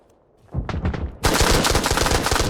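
Rapid automatic fire from a .308 AK rifle in Arma Reforger: a short opening burst, then a sustained loud stream of shots close by, with no voices.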